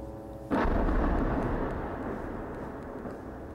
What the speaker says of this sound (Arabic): على ما يبدو أنه قصف إسرائيلي عنيف على قطاع غزة حالياً